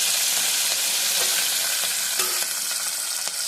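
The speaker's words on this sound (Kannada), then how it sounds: "ನೋಡಿ ಇಲ್ಲಿ ಎಣ್ಣೆ ಕಾದಿದೆ ಇದರಲ್ಲಿ ಬೆಳ್ಳುಳ್ಳಿಯನ್ನು ಹಾಕಬೇಕು ಬೆಳ್ಳುಳ್ಳಿ ಹಾಕಿ ಆಮೇಲೆ ಕರಿಬೇ ಸೊಪ್ಪನ್ನು ಹಾಕಬೇಕು" Garlic and curry leaves sizzling in hot oil in a home kitchen, a steady bright crackle with small pops and spatters throughout, close and loud with no talking.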